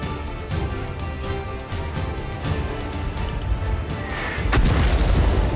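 In a tank video game, artillery booms out in a steady series of muffled blasts, with a heavier, louder impact landing near the end.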